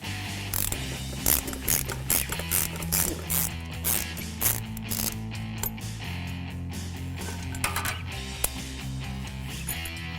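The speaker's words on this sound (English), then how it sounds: "To get that out, right on top of that bushing are 2 10mm screws. Again, you'll need an extension and a swivel." Quick bursts of ratcheting on a ratchet fitted with an extension and swivel, loosening two 10mm screws above a shifter bushing under a 2015-2023 Mustang GT, the clicking close and continuous with short pauses between strokes.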